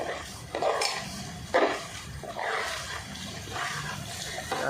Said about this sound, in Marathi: आता आपण कांदा पेस्ट टाकत आहे।